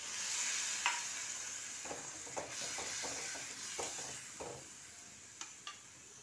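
Mustard-poppy egg curry with water and tamarind bubbling in a pan, a soft steady sizzle and simmer, with light scattered taps of a utensil against the pan.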